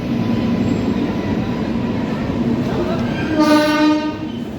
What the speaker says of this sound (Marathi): आपली Dhanbad Kolhapur Deekshabhoomi express platform number 2 वर नांदेडच्या आलेली आहे